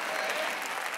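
A church congregation applauds during a Spanish-language worship service, a dense, steady wash of many hands clapping at once, loud and continuous throughout with no individual claps standing out.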